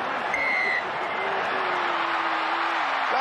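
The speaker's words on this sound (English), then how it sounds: "the crowd roaring because Ardie Savia's crossed the line" Rugby stadium crowd at an All Blacks versus Australia test in Auckland roaring as a try is scored, a broad sustained roar of cheering from a large crowd.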